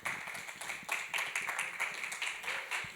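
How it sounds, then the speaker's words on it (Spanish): Audience at a film presentation applauding to welcome the director, with scattered hand claps building into moderate, fairly close applause over a few seconds. "lo recibimos con un fuerte aplauso"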